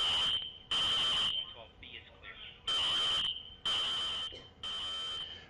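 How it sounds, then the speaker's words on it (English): A fire alarm in a university dormitory building blares in repeated loud, shrill electronic bursts with short gaps between them, while a voice talks underneath. "You can hear the fire alarm blaring in the background."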